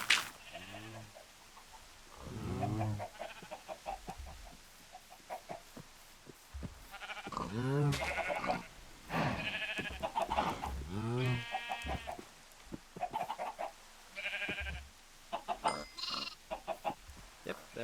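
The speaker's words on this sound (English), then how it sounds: "yep, there we go, little baby sheep" Baby sheep bleating in the Minecraft video game, several short bleats spread through the stretch and mixed in with someone talking at close range.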